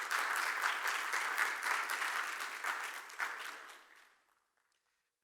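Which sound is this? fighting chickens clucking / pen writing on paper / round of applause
round of applause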